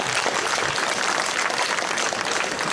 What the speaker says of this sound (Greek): Δώστε κανένα χειροκρότημα να χαρούν και αυτό